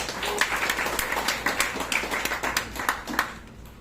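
A church congregation at a Sunday worship service claps in a brief burst of scattered, uneven hand claps at moderate distance.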